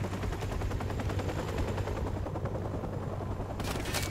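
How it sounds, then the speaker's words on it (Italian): Loud helicopter rotor drone with bursts of machine gun fire in the Call of Duty 4 Remastered video game, the chopping and gunfire steady and close throughout, with a sharper burst near the end. "L'elicottero sta tornando."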